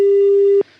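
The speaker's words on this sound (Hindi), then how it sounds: "फ़ोन ही कट गया आपका" A single loud, steady electronic telephone tone sounds for about half a second after a caller's line is cut off, then stops abruptly, leaving faint low hiss.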